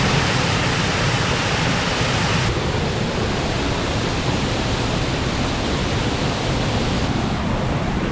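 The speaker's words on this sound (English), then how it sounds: "I never like to miss a waterfall." A waterfall near Falkirk, heard up close as a loud, steady roar of falling water that fills the whole stretch without a break, with no voices.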